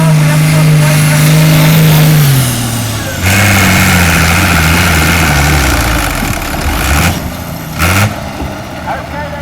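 A pulling tractor's engine at the Tenbury tractor pull, loud and close, holding a high steady roar, then dropping in pitch and revving again with short bursts, with an announcer talking over it.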